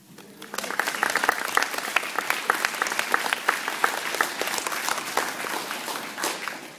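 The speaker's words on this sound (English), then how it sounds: "Strategic pause for well-needed applause." Sustained applause from a school winter concert audience, many hands clapping densely and steadily for several seconds, loud and close.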